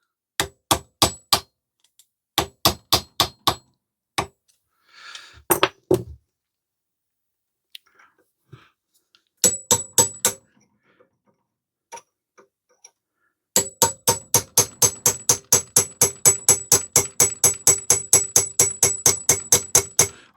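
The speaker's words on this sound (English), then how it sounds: "I'm only using a small hammer here, so that might sound like big bangs," A small hammer taps repeatedly on a cast iron cylinder fitting on a Stuart Turner generator, close and sharp. Clusters of ringing metallic strikes come with pauses between them, ending in a long steady run of rapid blows.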